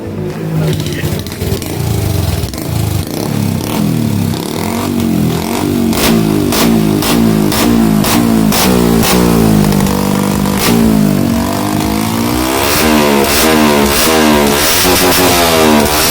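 A Honda Wave 110i motorcycle with a remapped stock ECU idles close by, then its engine revs up repeatedly in rising and falling surges that grow busier toward the end.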